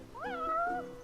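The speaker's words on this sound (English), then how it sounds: "You're one spoiled cat." A single cat meows once in Final Fantasy XV, a short, clear, rising-then-level meow heard alone and fairly quiet.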